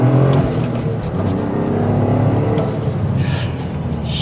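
A 2024 Toyota GR Corolla with a 300-horsepower 1.6-liter turbocharged three-cylinder engine drives along with a steady, loud engine drone and road roar heard from inside the car.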